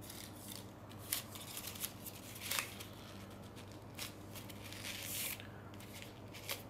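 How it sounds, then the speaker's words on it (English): Quiet, sporadic snips of scissors cutting plastic straws, a few sharp cuts spaced irregularly over a low steady background hum. "Use a scissors to cut the straws."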